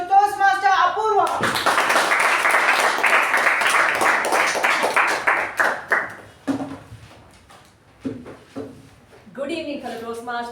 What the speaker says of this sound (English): Give a thunderous round of applause to Toastmaster Apoorva.